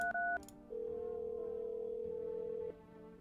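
Phone dialing tones in a video game: a short burst of beeping keypad tones, then a single steady electronic tone that holds for about two seconds before cutting off, with no talking.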